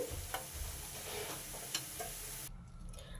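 Vegetable manchurian balls sizzle and bubble steadily in hot oil, a close, continuous frying hiss with occasional light ticks and clinks, then the sound thins out abruptly near the end; no talk.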